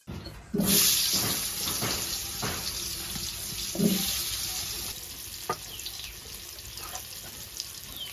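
Papaya pieces rubbed with turmeric and salt fry in an iron wok, giving a loud, continuous hiss and sizzle that starts abruptly and settles into a steady crackle, with a few stirring scrapes.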